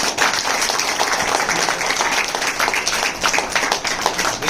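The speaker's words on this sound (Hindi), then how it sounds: "अपने सर के लिए ताली बजाएं हम लोग।" A hall audience claps steadily and densely for a cartoonist, a loud, even wash of applause with no speech over it.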